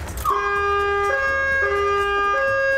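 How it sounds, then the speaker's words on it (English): A St John ambulance siren is switched on at close range, starting abruptly and then cycling through a loud, steady two-tone wail. "Can I turn the siren on?"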